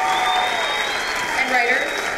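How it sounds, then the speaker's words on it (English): An audience claps for student leaders and writers at a school writers' week session, steady dense applause filling the room for a couple of seconds. "let's have one more round of applause for our very brave student leaders"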